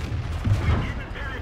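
A tank shell strikes and bounces off armor during a World of Tanks battle involving a T-54 and a T-59, a short heavy thud and crack that rises out of a steady low rumble of battle noise.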